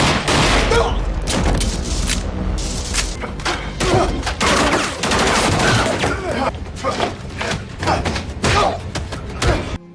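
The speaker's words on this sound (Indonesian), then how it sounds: "Tembakan-tembakan terjadi dengan sengit" Loud, rapid bursts of gunfire crack and thud in a sustained exchange, shots overlapping densely from start to finish.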